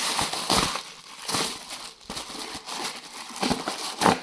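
Close, dry crinkling of a plastic bag in irregular bursts, fairly quiet, with no talking.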